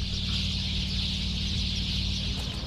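Fowl, likely chickens, cluck and call steadily in a ruined, war-damaged town in eastern Ukraine, a continuous nearby chorus with a constant background hum and no talking.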